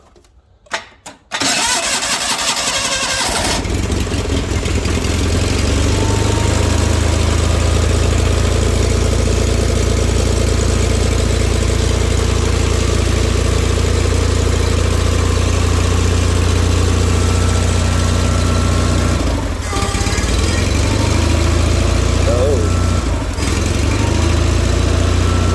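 A John Deere 318 lawn tractor cranks and fires up, then settles into a loud, steady, close-up idle with a deep low rumble that holds for over twenty seconds, with two brief dips.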